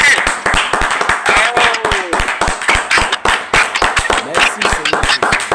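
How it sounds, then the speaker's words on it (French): A church congregation claps together in praise to the Lord during a revival service, with fast, steady, sharp claps filling the room and voices calling out over the rhythm. "Applaudissons pour le Seigneur"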